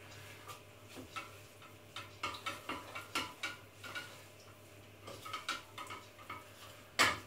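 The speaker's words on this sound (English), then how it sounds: "give them a stir through" Drained salted kidney beans and vegetables for a vegetable bake get stirred in a bowl, with a run of light, rhythmic spoon clinks and scrapes, moderately near and fairly quiet, ending in one sharper knock.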